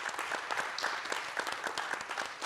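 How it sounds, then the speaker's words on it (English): Quiet, rhythmic clapping from a small audience thanking panelists at the close of a discussion session, a light patter of individual claps with no talk over it. "if we can hear a round of applause to them"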